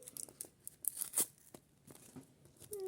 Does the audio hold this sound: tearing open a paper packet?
yes